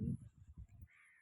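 Crows caw in a short burst of harsh, low calls, one loud and near, then several quicker caws in a rough rhythm before fading into faint background noise.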